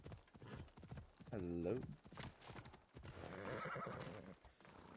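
A horse in Assassin's Creed Odyssey gives a loud, clear neigh amid the rhythmic clip-clop of hooves, with a voice speaking briefly over it.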